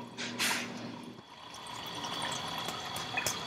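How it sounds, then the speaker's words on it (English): Tap water runs into a reusable bottle, a close splashing pour that briefly eases and then resumes as a steady fill, with light clinks of the bottle. "I just bottled this water for free."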